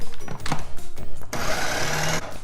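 A food processor chops Reuben quesadilla filling ingredients in short, loud whirring pulses, with a longer steady burst toward the end, close up and with no talk.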